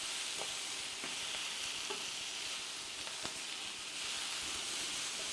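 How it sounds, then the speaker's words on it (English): Tempeh sizzles and crackles steadily in a hot pan with ginger and garlic, a bright continuous hiss with occasional small pops, close and fairly quiet. "frying nicely."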